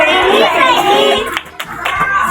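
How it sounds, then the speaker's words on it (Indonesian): A classroom group of teachers and children gives Peggy a rhythmic clapping salute, hands clapping in a patterned burst amid voices and chatter. "Tepuk salut Peggy dong."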